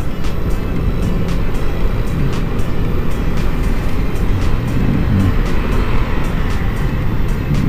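A truck passing on the road, heard as a loud, continuous low rumble of traffic and road noise with faint repeated ticking throughout and no voices.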